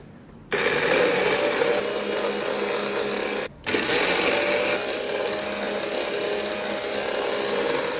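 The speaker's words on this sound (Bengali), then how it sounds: "একটু সরিষা একটু জিরে একটু পোস্ত দেনা পাউডার বানাই দেবো" A spice grinder whirs loudly and steadily as it grinds mustard, cumin and poppy seeds into powder, cutting out for a brief moment before starting again.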